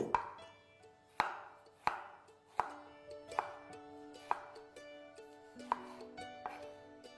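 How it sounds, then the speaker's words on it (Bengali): Four or five tomatoes roughly chopped with a knife on a board, giving about ten crisp, close knocks at an uneven pace over a quiet background with a faint lingering tone. "আমি এখানে 4 থেকে 5টা টমেটোকে রাফলি কেটে দিয়ে দেবো"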